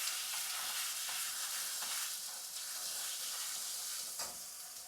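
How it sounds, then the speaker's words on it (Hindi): Onion paste frying in a pan while being stirred gives a continuous sizzle, with soft scraping strokes repeating every second or so and no talking. "तो ये हो गई हमार प्याज के पेस्ट। ओकरा बाद ओकरा के चला लेवे के बा बढ़िया से।"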